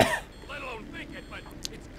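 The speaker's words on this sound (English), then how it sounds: "Coughs out dust." A single harsh cough from a man coughing out dust, loud and close at the start, followed by a few rough throaty vocal sounds and a brief click.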